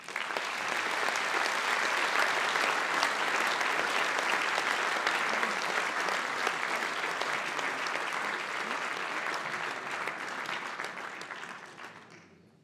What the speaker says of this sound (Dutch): Graag een applaus voor Maxine.